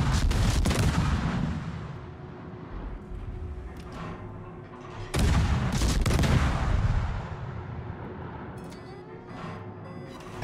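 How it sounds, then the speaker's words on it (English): Naval gunfire in the video game World of Warships, several loud booming salvos with rumbling decay, separated by quieter stretches of low ambient rumble. "Alright, we're getting shot at."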